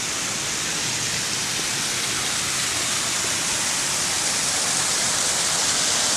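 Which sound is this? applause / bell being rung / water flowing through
water flowing through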